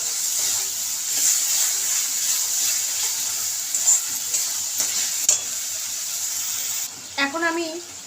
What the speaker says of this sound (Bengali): একটু করে জল দিতে হবে আর মশলাটাকে কষতে হবে।